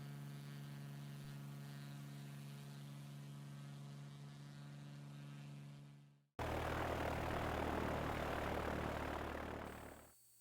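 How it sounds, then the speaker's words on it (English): A small propeller airplane engine in cruise flight, a steady loud droning hum with strong tonal harmonics, cutting briefly before a broader roaring engine-and-wind noise resumes and fades out. "We just started the engine"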